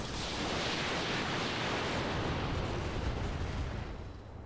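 Mech weapons in the RogueTech video game unleash a broad, sustained roar of explosive blasts and weapon fire, a loud continuous wash of noise that tails off toward the end.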